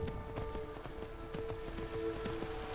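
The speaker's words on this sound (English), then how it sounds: "So we're just gonna go ahead and ride my horse that direction." Horse hooves galloping in Skyrim, a quick repeating clip-clop beat under a constant hum and patter of ambient noise, moderately close.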